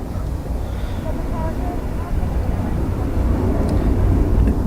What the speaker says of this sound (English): Right, so the Emirates is on finals.